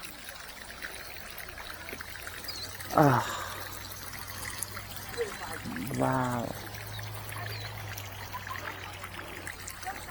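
Volcanic hot spring water flowing and trickling at Yellowstone, a steady close wash of running water with a person briefly exclaiming over it.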